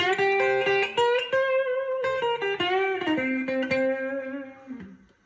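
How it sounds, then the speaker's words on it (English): Clean Epiphone Uptown Kat electric guitar on both pickups plays a flowing phrase of single notes, bright and full, with the last note ringing out and fading. "Now, if I played with both of them, it would sound like this."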